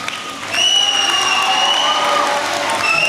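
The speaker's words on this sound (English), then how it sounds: "give him a round of applause" Audience applause at an 8th grade moving-on ceremony at a middle school in Oregon, steady clapping from a large crowd that swells after a brief quieter start and holds at full strength.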